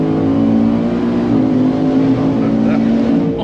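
An 800 whp F150 pickup accelerates hard, its engine note rising loud and close in a strained, sustained roar for a few seconds without a break.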